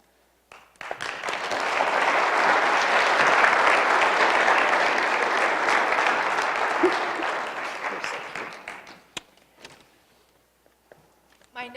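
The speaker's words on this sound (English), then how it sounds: "My notes actually say applause, applause, so thank you for going along." An audience at a propane trade show convention bursts into applause after a talk, rising quickly to a loud, dense wash of clapping that lasts several seconds, then thins into a few scattered claps.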